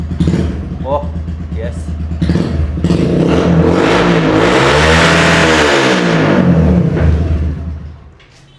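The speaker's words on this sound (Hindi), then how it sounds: "आफ्टर मार्केट एग्जॉस्ट इन्होंने लगा रखा है इस पर। अब ये आइडल पे सही थंपिंग साउंड है" A Suzuki GSX 125 motorcycle fitted with an aftermarket exhaust thumps at idle, then revs up into a loud, sustained roar that holds for several seconds before dropping off. Someone speaks briefly near the start.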